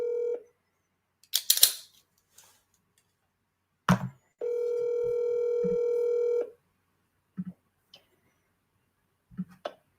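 A telephone line plays a steady dial tone for about two seconds, preceded and followed by brief clicks and short tones of dialing for a call, close and clear in an otherwise quiet office.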